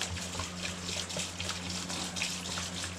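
Liquid pours steadily into a container holding a small-block Chevy 307 engine block, a continuous close gushing splash with no talk over it.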